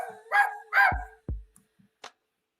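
Dog barking in short bursts, two loud barks followed by a few fainter yips and a final sharp bark, close and alone with no talk.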